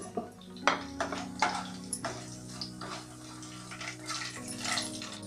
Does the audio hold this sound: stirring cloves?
yes